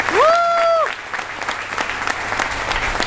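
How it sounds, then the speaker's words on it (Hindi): Audience at a leadership development program bursts into loud, dense applause, with a brief tonal voice or sung note at the start before the clapping carries on alone. "प्लीज जोरदार तालियां साहब के लिए।"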